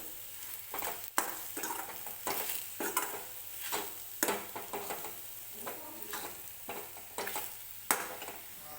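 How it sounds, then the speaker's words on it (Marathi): Masala paste for khar vang sizzles and fries in a pan while being stirred, with repeated sharp scraping strokes over a steady close sizzle and no voices. "हा मसाला व्यवस्थित परतवून घ्यायचा आहे."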